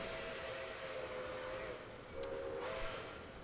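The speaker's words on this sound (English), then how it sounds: "Train whistle says we're off." A steam-style train whistle sounds in the railway game Transport Fever 2, two faint tonal blasts rising out of a steady rumbling background of rail noise.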